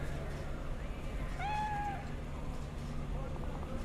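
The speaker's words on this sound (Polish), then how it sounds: "Tutaj kot sobie siedzi. Taki chyba egipski, bo nie ma futra" A hairless Egyptian cat in Cyberpunk 2077 gives one short, clear meow, its pitch rising and then falling, over a steady low hum of game ambience.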